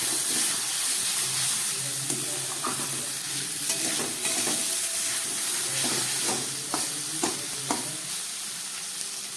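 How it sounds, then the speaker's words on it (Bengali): Spice paste of cumin, coriander and Kashmiri chili powder fries in oil, a steady close sizzle with repeated scraping stirs of a spatula against the pan. "মশলাটা অনেকটাই কষে গেছে, আর একটু কষিয়ে নিই।"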